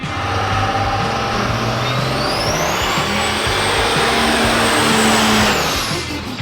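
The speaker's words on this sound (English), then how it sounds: "The engine sound is bold." A real engine in a small-scale Peterbilt truck roars steadily and close, its pitch rising and holding as it revs, with no talking over it.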